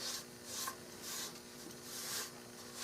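Quiet rhythmic rasping strokes of sandpaper on a wooden H&R Model 12 target rifle stock, four slow passes back and forth, close by with a faint steady hum underneath.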